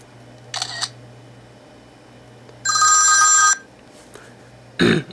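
iPhone default system tones playing one after another: a short chime, a longer bright tone lasting about a second, a brief click, then a final sharp alert, each alone over a faint background hum.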